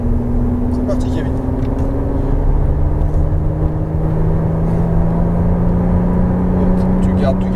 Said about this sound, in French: tu gardes du gaz, tu continues à accélérer pour le moment